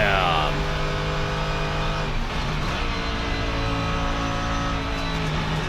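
A Mercedes GT3 race car engine chasing an Audi R8 GT3 at the Nürburgring, heard from inside the car as a loud, harmonic-rich roar that rises and falls with gear changes, with a voice talking over it.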